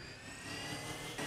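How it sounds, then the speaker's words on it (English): A drone launches in Call of Duty, giving a brief whirring, rotor-like buzz that holds steady and swells slightly near the end, fairly quiet, with no talking. "I'm going up with a drone."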